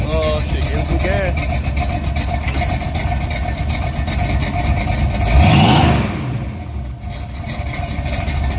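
A cammed 400 small-block Chevy engine idles with a loud, choppy lope, then revs up hard in one surging rise before settling back into the rough, pulsing idle, close and loud.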